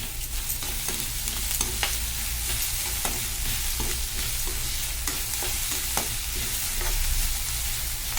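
A browned masala puri mixture with sugar frying in a pan, giving a constant close sizzle broken by regular scraping and clicking strokes as it is stirred.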